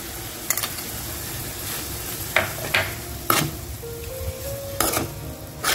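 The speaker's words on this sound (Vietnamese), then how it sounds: "Bây giờ thì chúng ta sẽ trộn đều cái phần thịt này lại cho nó thật là thấm gia vị" Braised pork with shrimp paste is stirred in a pan, giving scattered clinks and scrapes of a utensil against the pan over a faint, steady background sizzle.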